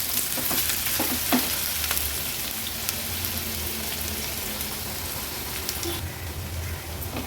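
Chopped medium-size onion sizzles steadily in a pan over a medium flame, a continuous frying hiss with a few stirring clicks and scrapes; no one talks.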